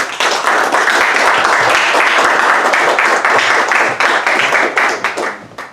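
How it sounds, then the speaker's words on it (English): An audience at a talk applauds the presenters: dense, loud, sustained clapping from a room of people that fades near the end. "So please give a round of applause for our presenters, Rachel and Alexandra."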